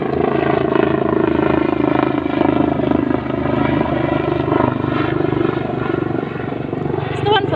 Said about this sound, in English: Excuse the helicopter.